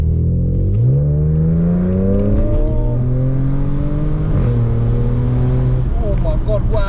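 A 2010 Audi S4 B8 engine revs up through rising pitch, holds, then climbs again, loud and close, with a few sharp crackles near the end; someone talks over part of it.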